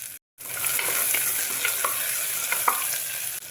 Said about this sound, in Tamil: அடுப்பை சிம்மில் வச்சு வெங்காயத்தை கிளறி கொடுத்துக்கலாம்.